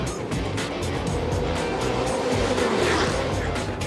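Supercars race cars bouncing hard over the kerbs at the Monorail corner, a loud, steady roar of engines with rough rumbling impacts running through the whole stretch.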